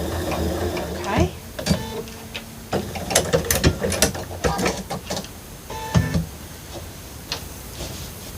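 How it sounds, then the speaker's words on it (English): A sewing machine stitches a seam on a Christmas quilt project, a rapid mechanical ticking and clatter in bursts that stop and restart, close and fairly quiet. "So we will sew this side first"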